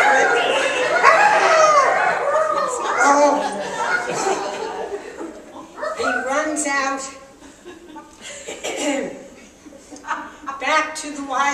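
A crowd of people crows and clucks like roosters and chickens, loud overlapping voices mimicking fowl, mixed with some laughter.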